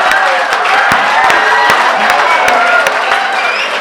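Applause and cheering from the audience at a Hindi kavi sammelan poetry recital, a loud crowd with scattered sharp claps under continuous chatter and a speaking voice.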